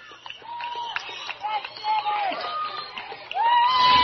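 Crowd cheering and whooping at a girls varsity softball game, scattered shouts and rising applause from spectators nearby, swelling louder toward the end.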